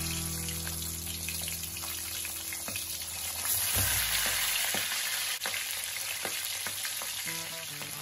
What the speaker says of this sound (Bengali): তেল গরম হয়ে গেছে, এবার মাছের মাথা তেলের মধ্যে ছেড়ে দেব